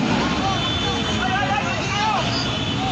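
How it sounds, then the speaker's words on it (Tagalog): Loud, continuous helicopter rotor noise roars over wind during a shootout between drug enforcement agents and police, with voices shouting through it. "Helicopter na! Helicopter na!"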